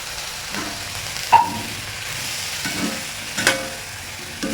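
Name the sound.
chopped chillies being stirred and fried in a pan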